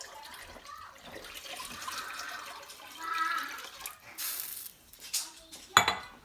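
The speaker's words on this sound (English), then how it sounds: "We're gonna add 4 cups of water." Four cups of water poured into a cooking pot for an Irish family meal, a soft watery splash and trickle close by, followed by light clinks of pots and utensils.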